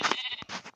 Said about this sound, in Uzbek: bitta qo'y